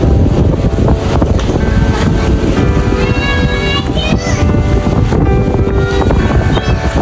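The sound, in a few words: strong wind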